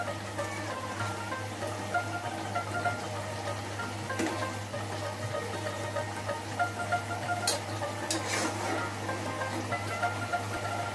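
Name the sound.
rohu fish sizzling in pan as it is flipped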